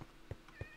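A Minecraft cat lets out three short, faint meows at an even pace, with no talking over them.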